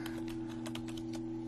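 Soft, faint computer-keyboard typing with irregular clustered keystrokes over a steady electrical hum, close and quiet.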